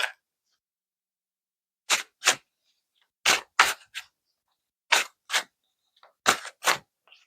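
Tarot cards being shuffled, heard as short, crisp paired snaps and riffles that recur in small clusters against near silence.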